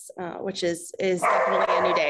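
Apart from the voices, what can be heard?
Wheaten Terriers barking in the background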